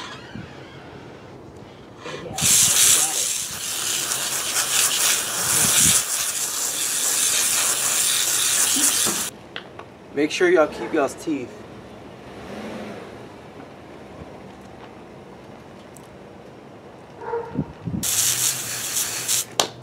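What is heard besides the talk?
water hose spraying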